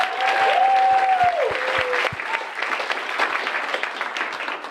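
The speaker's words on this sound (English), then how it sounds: "how about a round of applause for the saxophone section?" Steady applause from a jazz concert audience for the saxophone section, many hands clapping together over a few seconds, with a sustained tone fading out near the start.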